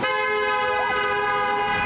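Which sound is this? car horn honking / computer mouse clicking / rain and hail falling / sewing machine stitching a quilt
car horn honking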